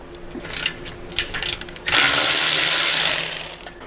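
Ratchet wrench loosening a muffler clamp where a slip-on exhaust meets the header on a 2024 bagger motorcycle, a few scattered clicks and then a loud, fast ratcheting burst of about a second and a half, close up.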